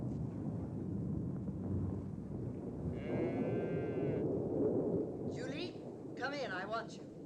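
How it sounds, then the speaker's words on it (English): Oxen lowing in a 1950s adventure film scene amid a stormy rumble, one long moo in the middle followed by shorter, rougher bellows near the end, heard over continuous low storm noise. "Kurt, the thunder's frightening the oxen. See they don't get out."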